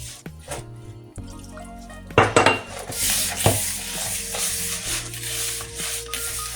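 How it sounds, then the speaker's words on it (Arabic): Batter with milk is mixed in a bowl for cheese harcha: sharp utensil clinks against the bowl, then continuous wet stirring and scraping, close and fairly loud. "ها هي بعد ما تبسبست غادي نبدا دابا نخلط بالحليب على حساب الخليط"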